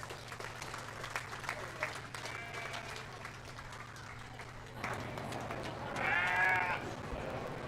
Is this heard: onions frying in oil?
no